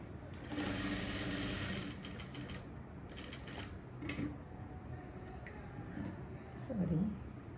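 A sewing machine runs in a long, steady burst of rapid stitching on a blouse front cup, then gives a few short stitch runs and taps at moderate loudness, with faint background noise.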